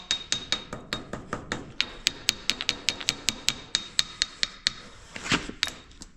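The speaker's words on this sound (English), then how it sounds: "this shaft's not the best, but use Robert's little hammer. Get the seal off" A small hammer taps a metal shaft on a moldboard plow in a quick, even series of about twenty sharp, ringing strikes, close by, ending with a brief scrape.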